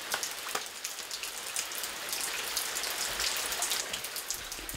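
Steady rain falls all day on a quiet rural scene, a dense, even hiss of countless drops pattering on surfaces with no voices, loud and close throughout.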